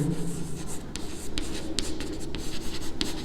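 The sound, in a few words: writing given values on a board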